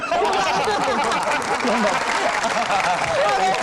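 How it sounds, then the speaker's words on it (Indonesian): Audience applause at a lively stage event with numbered boxes, steady dense clapping throughout with some laughter and chatter mixed in. "Tepuk tangan."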